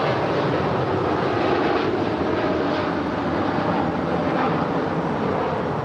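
Boeing 787-9 Dreamliner, two years old, departing LAX for London Heathrow, a steady broad jet roar that holds loud and even throughout with no talk.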